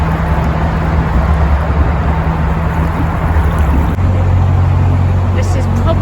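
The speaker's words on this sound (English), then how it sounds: "that is the M6 there with the lorries on" Heavy motorway traffic with lorries rumbling on the M6 overhead, a steady low drone heard from a canal boat passing beneath, with a boat engine hum underneath and a voice talking over it.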